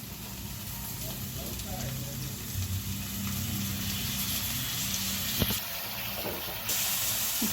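Tomatoes and green chillies tossed into ginger and garlic frying in a pan for a mutton liver dish give a steady, close sizzling hiss that continues throughout, with a brief louder crackle partway through.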